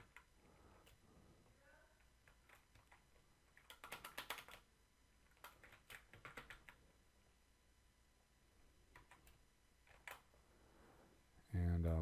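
A password is typed on a computer keyboard in bursts of quick, close clicking keystrokes separated by short pauses, with faint background noise and a louder thump at the end.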